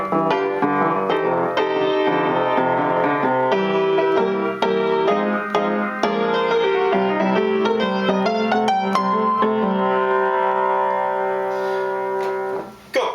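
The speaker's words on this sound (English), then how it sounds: "So the last 4 bars of the 12-bar blues would sound like this." A keyboard plays the closing four bars of a 12-bar blues in a steady rhythm, sounding full chords and moving lines that end on a held final chord before a brief cutoff, with no talking.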